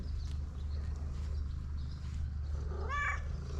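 A hungry cat meows insistently for food, a single drawn-out rising meow near the end rising over a low indoor background hum, fairly close but not loud.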